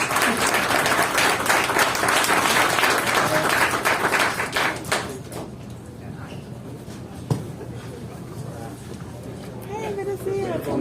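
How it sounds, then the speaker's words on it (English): An audience at a blockchain infrastructure panel breaks into loud, sustained applause for about five seconds, then it fades as people chat and greet each other nearby. "Give a round of applause to our panel"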